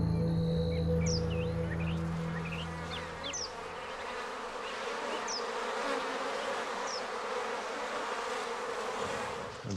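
Bees buzzing at a hive in a desert oasis in Morocco, a dense steady hum close by, with faint chirping birds scattered over the top throughout.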